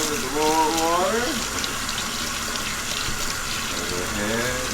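Warm tap water runs steadily with a soft rushing hiss while rinsing a tie-dyed shirt, and a voice speaks briefly at the start and again near the end.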